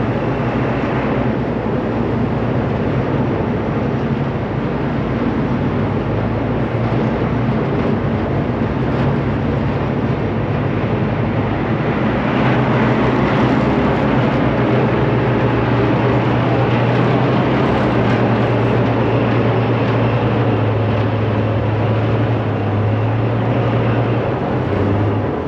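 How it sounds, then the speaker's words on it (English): A car ferry's heavy, continuous engine drone with a deep steady hum, loud and unchanging throughout, like machinery running below deck, on a crossing in Montenegro. "You can hear the ferry noise in the background."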